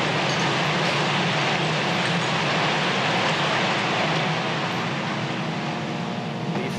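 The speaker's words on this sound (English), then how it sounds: "These are the drones." Military drones over Gaza, heard outside Shifa hospital at night: a continuous, broad, loud droning hum that holds steady and fills the air with no talk on top.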